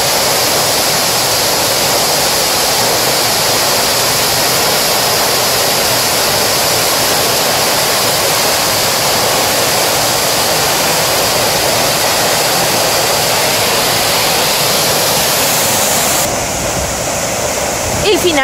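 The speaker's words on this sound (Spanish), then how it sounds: "Y finalmente hemos llegado hasta el final de la cascada." A waterfall near Quebec City, Chute Jean-Larose, roars as a loud, steady broadband rush of falling water heard up close, continuous for the whole stretch.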